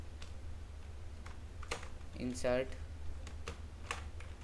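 Someone typing Python code on a computer keyboard produces a faint, sparse series of key clicks spread across the moment, with a voice briefly audible partway through.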